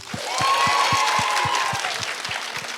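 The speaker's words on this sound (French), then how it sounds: "Moi, j'applaudis pour lui." Applause at an author masterclass, scattered clapping from a small audience with a steady rhythmic clap near the front, while a held tone sounds faintly in the background.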